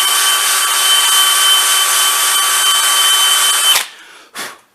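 A drill spinning a small hex-mounted wire brush inside the tapered holes of a Hummer H1 gear hub, a steady loud whine with rough brushing noise for nearly four seconds, then a sudden stop and a brief second burst.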